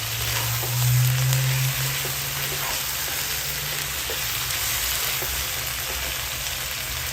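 Pocherong manok sizzling in a pan as chicken powder is stirred in after a splash of soy sauce; a loud, continuous frying hiss with a low hum underneath, steady throughout.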